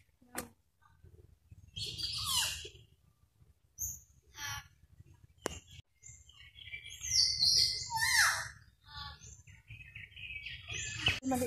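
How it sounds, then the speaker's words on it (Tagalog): Birds chirp and call in scattered bursts under a forest canopy in Palawan, with bright tweets and short trills over a low, steady ambient rumble and no talk. "Uy, may mga ibon din."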